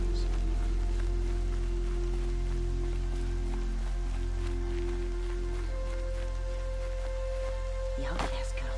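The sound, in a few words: rain falling in the video game Horizon Zero Dawn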